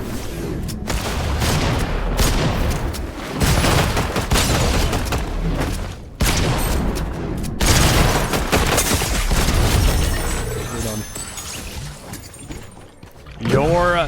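Pump shotgun and other gunfire in a Fortnite Zero Build match: loud, dense bursts of shots and booms that nearly fill the clip, with a short gap midway and sounds dropping off toward the end.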